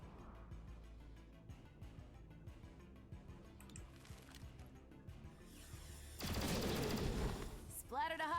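Gunfire from the video game XCOM: Chimera Squad, a loud burst of rapid shots lasting about two seconds near the end, following quieter game sounds and effects.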